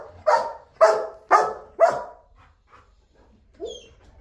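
A protection dog, trained to guard a yacht or private jet, barks four times in a sharp, evenly spaced burst on command, then lets out a single softer bark after a brief pause, close and clear.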